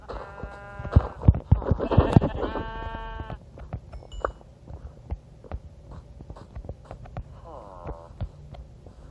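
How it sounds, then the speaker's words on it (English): Sheep bleating in the video game Minecraft, several loud nasal bleats clustered early, then scattered clicks and taps from gameplay and a shorter fainter bleat near the end. "I need to kill sheep."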